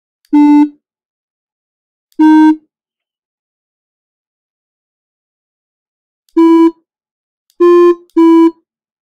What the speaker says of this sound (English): we're going to play some winning tones